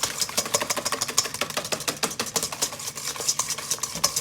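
Vanilla sugar and egg mixture for a magic cake being whisked by hand in a bowl, a fast, steady rhythmic clatter of whisk strokes continuing throughout with no talk.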